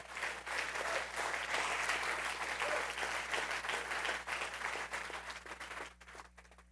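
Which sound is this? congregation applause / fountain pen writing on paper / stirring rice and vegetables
congregation applause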